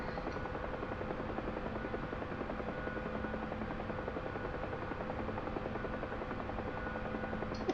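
Bell UH-1 Huey gunship helicopter in flight during low-level training, a steady loud rotor and turbine drone with even rhythmic blade chop, continuous and close throughout, with no talk.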